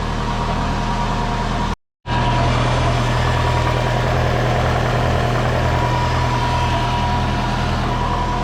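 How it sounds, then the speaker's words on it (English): A compound-turbo Subaru engine with an exhaust leak idles loudly and steadily up close, with a rough, puffing exhaust note; the sound cuts out briefly near the start. "there's a leak on the exhaust."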